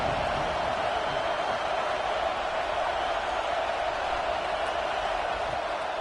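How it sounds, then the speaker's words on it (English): Stadium crowd at a Florida vs Auburn college football game roaring steadily for the defense on third down, a dense, sustained wash of cheering noise with no breaks. "Decibels rising as the crowd gets behind this defense on third down."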